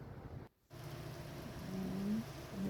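Soft steady hiss of rain falling outdoors in Santa Monica, briefly cutting out then resuming, with faint low rumble and a few tonal traces underneath.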